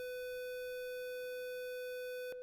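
A sustained synthesizer note with a hollow, reedy square-wave timbre, steady and unaccompanied, ending abruptly after a couple of seconds.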